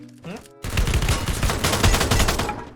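An M60 machine gun fires a fast, continuous burst in the shooter game Free Fire, loud and close, preceded by a brief voice and a tone.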